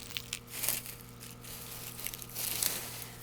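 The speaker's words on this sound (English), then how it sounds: "I'm going to cut the leaves off right in this area." Scissors snip through dry garlic leaves close up, giving a few crisp crunching cuts and crinkles in uneven bursts that stand alone without talk.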